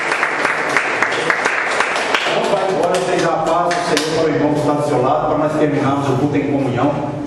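A church congregation claps together through a worship service, steady dense applause with a crowd murmuring and voices mixed under it.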